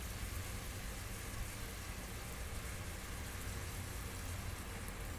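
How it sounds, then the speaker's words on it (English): Wine splashed into a hot pan of pink-cooked shrimp hisses in a steady, even crackling sizzle that holds without a break, close and fairly loud, with no talking. "let that sizzle a little"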